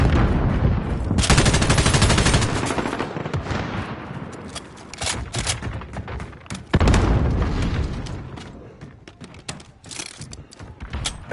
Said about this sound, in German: Alle schießen sie auf den Panzer.